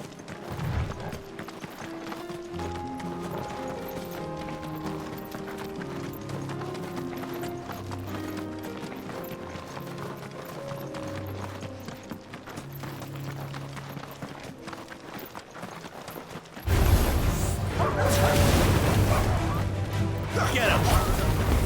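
Horse hooves clip-clop at a galloping pace as a steed sprints in Final Fantasy XVI, mixed under a sustained orchestral score, followed by a louder burst of action near the end.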